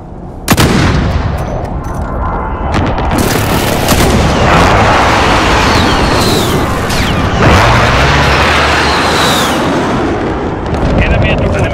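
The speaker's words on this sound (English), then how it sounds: "Enemy precision airstrike inbound." A precision airstrike explodes in Call of Duty: Modern Warfare, one sharp blast followed by a long roar of heavy booms, gunfire and debris, with another strike hitting partway through.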